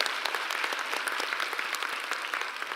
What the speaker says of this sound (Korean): 우리 한번 하나님께 영광의 박수 올려드립니다